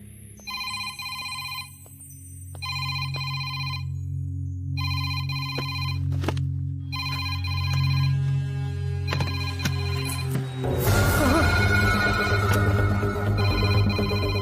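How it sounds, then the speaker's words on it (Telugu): A phone ringtone repeats in regular bursts of a bright chiming melody, fairly loud, over a low background hum and other sounds. "రింగ్ అవుతుంది కానీ ఎవరు ఎత్తట్లేదురా"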